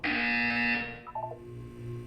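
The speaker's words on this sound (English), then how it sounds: "When you hear the buzzer, look down at the floor." A buzzer tone from the video game Portal 2 sounds steadily for under a second, loud and alone, followed by a few brief electronic chirps and a low hum.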